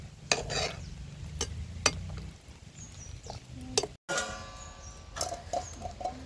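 Black chana sambar with tamarind simmering in a pot, sharp spoon clinks and stirring scrapes over a low bubbling rumble, one brief cut to silence partway, no voices.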